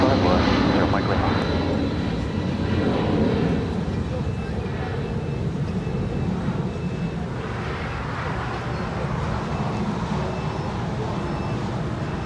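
Jet airliner on its takeoff roll from runway 25 left at LAX, a steady broadband engine roar that stays loud and even throughout, with faint voices at times.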